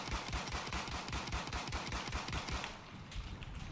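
Rapid bursts of automatic gunfire from the Battlefield 1 video game, a steady close, loud rattle of shots that briefly thins near the end, with no talking.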